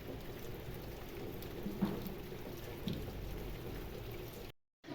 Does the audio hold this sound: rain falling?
yes